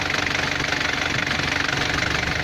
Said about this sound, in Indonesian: Jadi dia ini kondisi mesin masih sangat fit sekali, luar biasa fit ini mas kondisinya ya